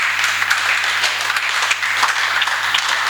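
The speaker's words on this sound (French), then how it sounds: "On peut acclamer pour le Seigneur" A church congregation breaks into steady applause, a dense wash of many hands clapping together that holds evenly across the whole stretch with a faint low hum underneath.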